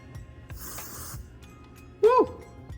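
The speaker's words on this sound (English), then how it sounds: "gotta cover that forehead or I'm gonna spray my whole forehead." Hairspray hisses onto a freshly done updo in one short burst of under a second, then a voice lets out a brief exclamation moments later.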